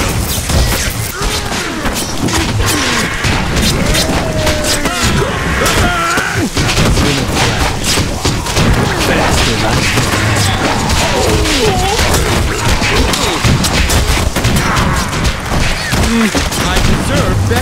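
Dense, loud bursts of gunfire and booming impacts ring out continuously in a shooting video game, mixed with in-game voices and effects throughout.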